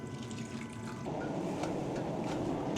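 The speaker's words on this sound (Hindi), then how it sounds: "हाफ कप इसमें पानी डाल दें।" Half a cup of water is poured onto grated carrots, a close, steady splashing trickle that starts about a second in and runs continuously to the end.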